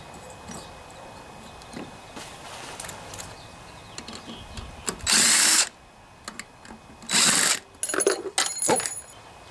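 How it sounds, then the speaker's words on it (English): A power tool drives bolts out of the head of a Briggs & Stratton 7.25 163cc EX lawnmower engine. Loud bursts of whirring come in several short runs, with small clinks and mechanical handling between them. "just got to finish taking these bolts out here."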